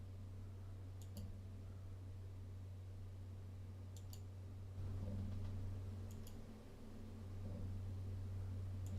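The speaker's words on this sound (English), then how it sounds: "You can hear my clicking." Faint sharp clicks in a few small clusters over a constant low electrical hum and hiss, with no voices.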